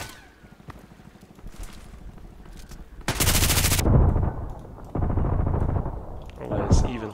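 Loud bursts of gunfire in the video game Contract Wars, including shotgun blasts, come in a dense volley at mid-clip and again near the end, over a background of lighter game noise and voices talking.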